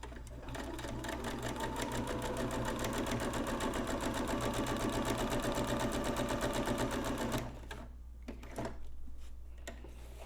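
A sewing machine runs fast and steady through a canvas banner, a dense rapid rattle close by, then stops, leaving a few light clicks and handling noises.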